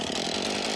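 Chainsaw cutting roadside trees and branches along a highway slope, a loud, continuous high-revving buzz heard up close for a brief moment without any talk.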